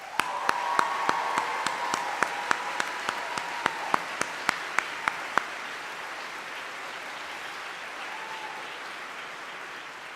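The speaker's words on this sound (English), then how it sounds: "Let's give them a round of applause" A large medical school commencement audience applauds graduates, a broad wash of clapping with a few sharp, evenly spaced louder claps up close, easing into quieter crowd ambience after about five seconds.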